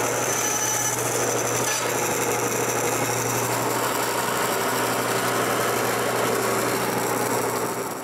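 Power saw cutting corner notches in plywood for a bandsaw base, a steady, loud, continuous motor whine with a constant hum that holds evenly throughout, with no speech.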